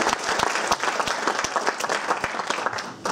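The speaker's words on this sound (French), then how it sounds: "Ça mérite bien des applaudissements." Audience applause after a history lecture, a steady roomful of clapping with some sharper individual claps standing out, sustained evenly at moderate loudness.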